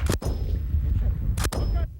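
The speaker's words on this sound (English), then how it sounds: "The sound of the first gunshot signaled that Delta Company was under enemy attack." Two sharp rifle shots from an army live-fire exercise crack out about a second apart, each with a brief loud burst over a steady rumbling outdoor background.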